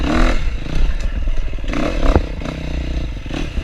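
A dirt bike engine revs and rises as it is ridden, with clattering and scraping noises over it and loud, uneven surges.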